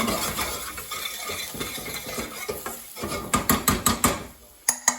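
A utensil stirs black pepper and red chilli into a chicken curry in a pan, scraping and clinking in quick, irregular knocks that grow louder and sharper toward the end.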